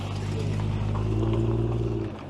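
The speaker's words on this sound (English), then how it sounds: "Oh, Triumph Vitesse, just leaving with big 6-cylinder engine." A Triumph Vitesse with a big 2-litre six-cylinder engine pulls away at a car show, a steady low droning engine rumble close by that swells slightly and then eases off, with faint voices in the background.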